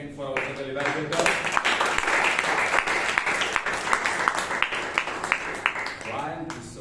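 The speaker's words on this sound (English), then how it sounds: "a round of applause once again for our general evaluator" A round of applause from the audience at a Toastmasters club meeting in Bangalore, steady dense clapping from a roomful of people that swells and fades, with a voice speaking briefly at the start and end.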